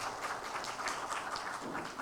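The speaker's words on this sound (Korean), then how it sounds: "한 해 동안 우리 수고해 주신 기획위원장님께 다시 한번 감사의 박수 하겠습니다." A church congregation at a Sunday worship service claps in thanks, a soft, even wash of many hands that sounds somewhat distant, with no voices over it.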